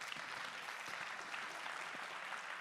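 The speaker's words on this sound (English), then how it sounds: "We can give them a round of applause to the speakers." An audience at a design conversations event applauds the speakers, a steady wash of clapping with no voices over it.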